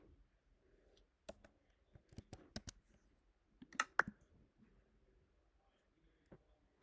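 Sparse clicks and taps of typing on a computer keyboard while playing Minecraft Education, faint and irregular with a few sharper key strikes in a quiet room.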